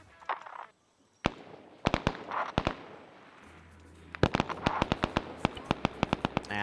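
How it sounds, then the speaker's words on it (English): Grenade explosions in the war video game Arma 3 SOG go off as sharp, scattered bangs, some isolated and then a rapid cluster of cracking blasts, over a low rumble at moderate distance. "More grenades being thrown."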